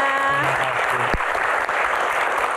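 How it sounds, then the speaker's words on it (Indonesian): A studio audience at an Indonesian Q&A talk show breaks into broad, sustained applause, loud and continuous, with a brief voice and a sharp thump near the start. "tepuk tangan buat kita semuanya"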